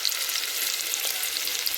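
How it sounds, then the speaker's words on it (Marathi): Onions frying in a pan toward golden brown give a bright, even sizzling hiss with fine crackles, close and continuous throughout. "कांदो ना छान गोल्डन ब्राऊन होईपर्यंत भाजून घ्यायचो"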